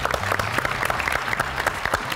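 A studio audience of about thirty people applauds two guests, Byilhan and Nico, with a steady wash of dense hand claps that stays close and even-paced for about two seconds.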